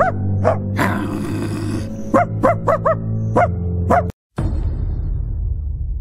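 A dog barks in a series of short, sharp yips and woofs, some spaced, some in quick succession, close to the microphone over a steady low background hum that continues after a brief dropout.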